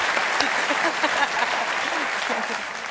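A studio audience at a late-night talk show applauds in a steady, dense clatter of clapping, with some voices mixed in underneath.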